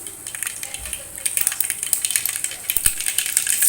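Mustard seeds crackle and sizzle in hot oil as a tempering for idli, giving a steady high hiss with small scattered pops that grows louder toward the end, with light utensil clicks.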